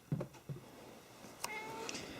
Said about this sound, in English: That's Mo the cat.